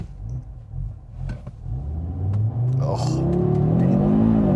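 A 2025 Audi RS3 with its turbo five-cylinder pulls hard on a 0-60 run, the engine note rising steadily in pitch and loudness from inside the cabin, with a brief exclamation near the start.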